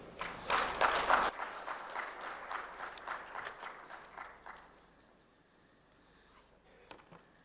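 An audience at a microfinance tech summit applauds the Governor's welcoming remarks: dense clapping that starts strong, thins out over several seconds and fades to a few scattered claps.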